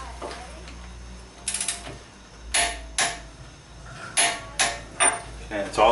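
A torque wrench ratchets and clicks while wheel hub bolts on a 2002-09 GMC Envoy are tightened, a series of sharp close clicks and ratcheting bursts over a low hum.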